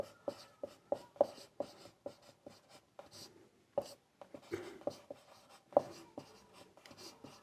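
Pen writing by hand on paper as a math formula is worked out, a steady series of close, scratchy strokes and taps with short pauses, no voice.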